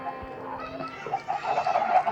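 Minecraft chickens clucking softly in a steady, busy stream, with a few louder cackles near the end; no talking.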